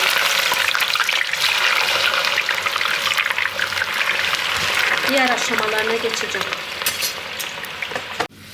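Potatoes frying in hot oil for a Turkish meat sauté, a steady close hiss and crackle that runs throughout, with stirring in the pan partway through and someone speaking over it.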